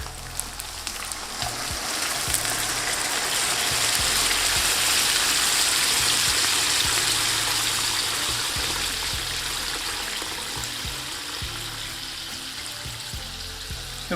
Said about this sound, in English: And in with our homemade stock.